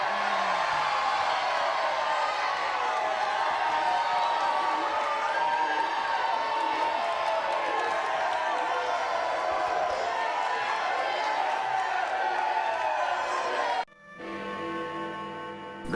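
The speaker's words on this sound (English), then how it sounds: "Cheer!" Studio audience cheering on a TV show, a dense, loud and sustained crowd roar that breaks off abruptly near the end.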